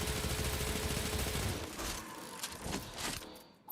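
Sustained rapid weapon fire during a video game raid, dense and continuous for about a second and a half, then thinning into scattered bursts and impacts before falling quiet.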